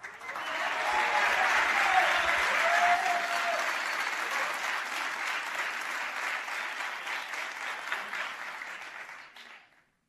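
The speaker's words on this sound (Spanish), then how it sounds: "provoca aplausos en el Teatro de los Sueños" Warm, sustained applause from an audience in the Teatro de los Sueños at the Santiago Bernabéu in Madrid, swelling quickly, holding for several seconds, then tapering and cutting off near the end.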